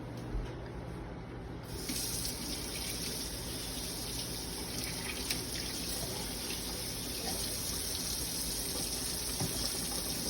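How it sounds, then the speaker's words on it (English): Running tap water pours steadily into a sink as hands are washed before baking brownies, a constant close gushing hiss that starts after a brief quieter moment and continues without speech. "First step is that we need to wash our hands."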